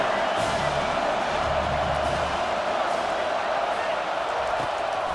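A stadium crowd at an Ohio State vs Alabama football game roars steadily throughout, a dense, continuous wall of noise with a commentator talking over it.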